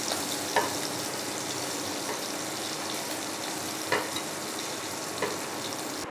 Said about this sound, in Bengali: হালকা করে ভাজছি, খুব বেশি ভাজছি না।